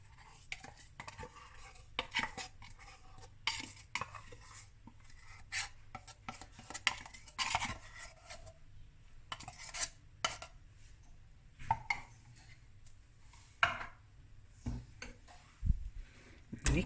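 A spoon mixes condensed milk in a bowl for a fruit cocktail cheesecake pudding, with quiet intermittent scraping and clinking strokes in an irregular rhythm and occasional faint speech.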